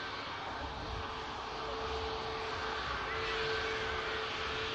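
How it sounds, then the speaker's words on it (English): A Silver Aviation Pilatus aircraft at Manchester Airport gives off a steady, fairly faint engine drone with a thin whining tone, swelling slightly toward the end, with no voices. "Just got a visual now on the Pilatus of Silver Aviation"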